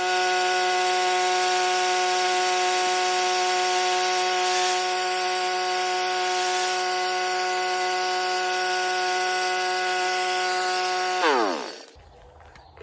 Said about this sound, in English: I was using pretty much just the weight of the drill. Punch that on through.